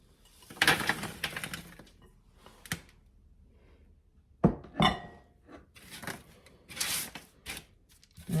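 Sugar cinnamon almonds spread onto a large parchment-lined sheet pan, giving scattered clattering rattles and clicks in short irregular bursts with quiet gaps between, close and moderately loud.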